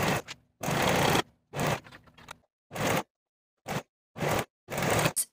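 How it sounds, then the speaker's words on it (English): A serger stitches elastic onto fabric for a bodysuit leg opening in a run of loud, close mechanical bursts of varying length, separated by short silences. "using your serger or a zigzag stitch, we're going to sew that elastic in place"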